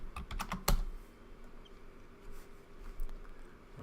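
Keys on a computer keyboard are typed in a quick burst of close clicks, then a few scattered taps follow over a quiet background.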